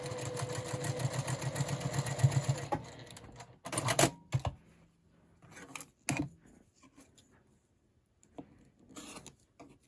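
Sewing machine running fast under foot-pedal control while stitching two quilt pieces at once, a close, rapid mechanical whir for a few seconds, then stopping and giving way to short handling clicks and quiet rustling.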